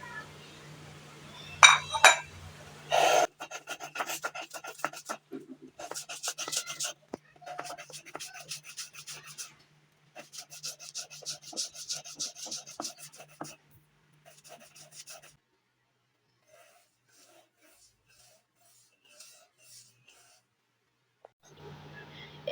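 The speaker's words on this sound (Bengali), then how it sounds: "এখানে মাছটা বেটে নেব" A fish being ground on a grinding stone for bhorta gives close, rhythmic rasping and scraping strokes in repeated bursts, fading to sparse, faint scrapes near the end.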